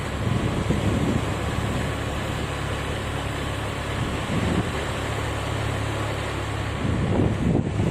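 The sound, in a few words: sea waves and wind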